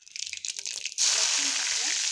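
Garlic drops into hot oil with mustard seeds and cumin, and a loud dense sizzle bursts out partway through and holds steadily after a brief lead-in of speech and clatter.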